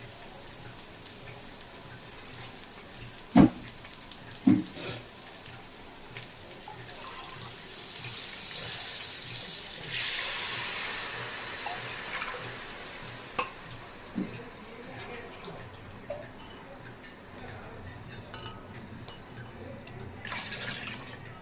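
Water poured into a pot for chicken biryani, a soft steady splashing stream running through the clip with a couple of sharp knocks near the start, no talk.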